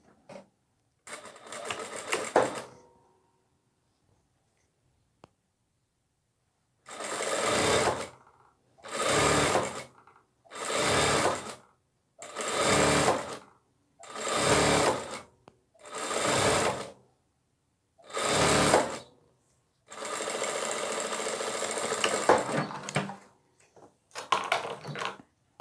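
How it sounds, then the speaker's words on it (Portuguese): A sewing machine stitches a nursing pillow cover with backstitching, heard alone as about eight distinct bursts of rapid, close stitching separated by short pauses, ending in one longer run. "E vou começar a costurar aqui da pontinha, dando retrocesso até o final lá dessa parte."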